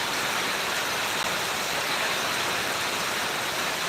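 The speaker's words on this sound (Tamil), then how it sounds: "இப்போ அதுக்கு பிறகு மழை பெய்யுது பாருங்கள்" Heavy rain falls steadily in Srivilliputhur, a dense, even hiss with no breaks, close and constant throughout.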